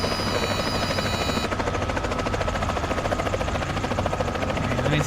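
A helicopter flies in Microsoft Flight Simulator 2024, its rotor a loud, steady, continuous drone with a fast chopping pulse throughout and no voices.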